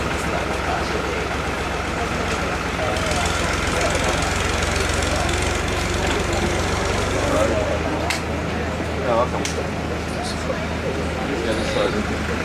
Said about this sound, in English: Can we wait for that tractor to go away?